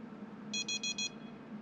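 Four quick high-pitched electronic beeps from a fishing rod bite alarm in a fishing video game, clear and evenly spaced over a low background hum.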